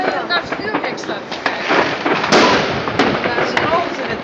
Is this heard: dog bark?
no